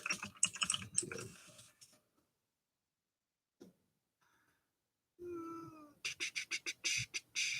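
Rapid bursts of clacking from a very clicky relay-type computer keyboard, heard in two runs at the start and end with near silence between, close and fairly loud with no talk over it.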